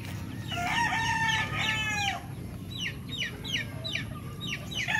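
Chickens and roosters kept as a hobby at a sibling's place in Caraskal cluck and call close by, with a long rooster crow followed by a run of short, repeated clucks over a steady outdoor background.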